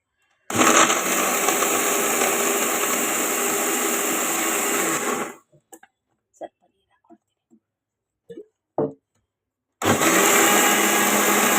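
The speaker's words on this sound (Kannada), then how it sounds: "ಈಗ ಇದನ್ನು ಸ್ವಲ್ಪ ಗ್ರೈಂಡ್ ಮಾಡ್ಕೊಳ್ಳೋ ಚೆನ್ನಾಗಿ" An electric mixer grinder whirs loudly and steadily as it grinds ragi with jaggery, stops for a few seconds of quiet clinks and taps, then starts up again at full roar.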